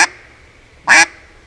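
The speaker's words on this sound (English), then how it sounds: "if we put just a little more voice into it, we got a regular duck." A single quack from a duck call given a little voice to sound like an ordinary adult duck, close and loud, with the tail of a previous note at the start and otherwise near silence.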